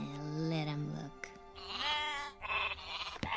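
A cartoon sheep bleats twice in quick succession, loud and close with wavering, nasal cries, the second longer and brighter, with a short gap and a sharp click between them.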